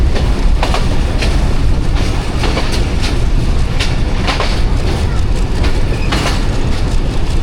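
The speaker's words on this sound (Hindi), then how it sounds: "सरगोदा जंक्शन पहुंच चुकी है 18 डाउन मिलत एक्सप्रेस" The 18 Down Millat Express rolls through Sargodha Junction, its wheels beating a loud, continuous clickety-clack over the rails with a steady rumble throughout, close at hand and unbroken.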